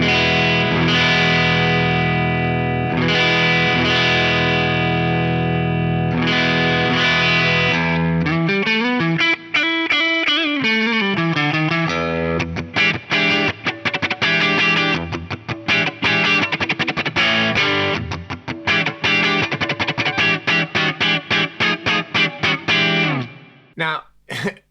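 Electric guitar played through Axe-Fx III compressor effects, first with sustained ringing chords and then with rapid, choppy distorted riffing, loud and alone with no talking.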